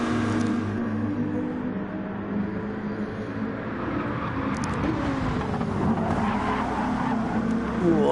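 A race car drifting through a corner in a PS4 racing game, its engine droning steadily while the tires squeal in long rising and falling streaks, with a commentator's voice running over the top.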